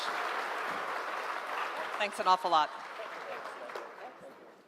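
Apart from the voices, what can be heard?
audience applause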